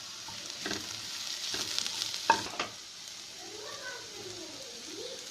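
Capsicum stir-frying in a hot pan with fried onion for restaurant-style dragon chicken, a soft sizzle broken by several scraping spatula strokes, with faint background voices.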